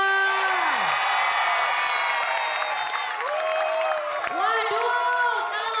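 An audience applauding and cheering at a comedy stage show, a continuous loud swell of clapping and whoops with excited voices and shouts throughout.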